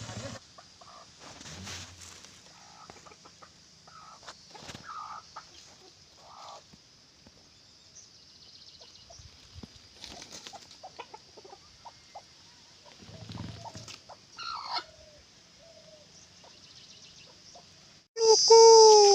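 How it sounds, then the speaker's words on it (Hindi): A rooster crows once, loud and close, at the very end, after a stretch of quiet morning ambience with scattered faint bird calls and soft movement at dawn. "भोर हो चुकी है, मुर्गा बाग दे चुका"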